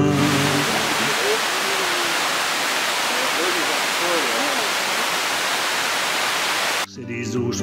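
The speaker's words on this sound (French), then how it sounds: "C'est des eaux souterraines qui sortent en cascade du ventre des rochers" Underground water pours in a cascade from inside the rocks of the Jura, a loud, steady roar of falling water that fills the scene, with a voice speaking briefly at the very end.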